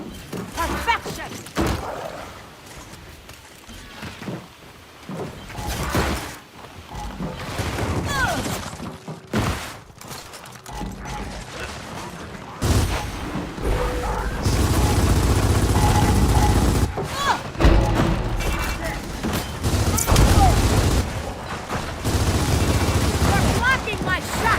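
Rapid gunfire and fusillade bursts in a shooting video game, loud and dense throughout, with heavier sustained firing in the second half and a voice speaking over it at times.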